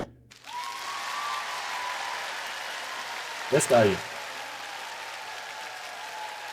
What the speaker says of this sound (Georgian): Clap in the hall